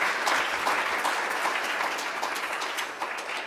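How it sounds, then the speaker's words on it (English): Audience clapping after a conference talk, sustained dense applause lasting throughout, steady and fairly close, slowly tapering toward the end with no talk over it. "let's give Dr. Fry another round of applause for the great talk"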